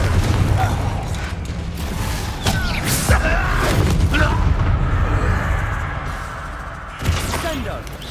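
Confringo blasting curse bursting in Hogwarts Legacy combat, a loud crackling explosion with heavy low rumble among repeated spell blasts, with a sharp fresh burst near the end.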